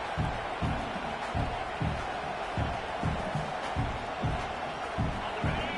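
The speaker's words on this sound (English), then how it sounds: "This crowd, full throat, spreading the eardrums" A big video-game college football stadium crowd roars continuously, with rhythmic low thumping pulses running beneath the steady wall of cheering.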